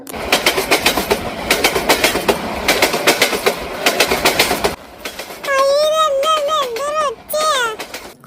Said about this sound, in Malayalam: ഇതാ നമുക്ക് പോകാനുള്ള ട്രെയിൻ